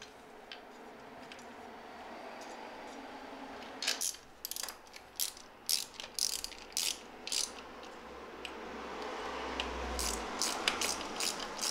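Close ratcheting clicks from a wrench tightening the longer bolts that fix a disc brake caliper directly to an aluminum road bike frame, coming in a rhythmic burst of short clicks over a quiet room hum.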